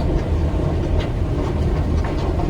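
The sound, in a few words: Pune metro train moving at the station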